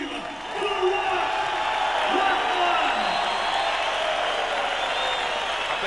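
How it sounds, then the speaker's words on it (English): Arena crowd at a heavyweight boxing event applauding and cheering as a fighter is introduced in the ring, a steady loud wash of clapping and shouts lasting throughout. "A big round of applause"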